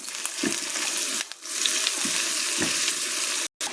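Garlic and onion frying in a pan for a Chinese-style beef dish, a steady broad sizzle with brief dips and a short cutout, no talk.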